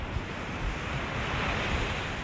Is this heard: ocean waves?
yes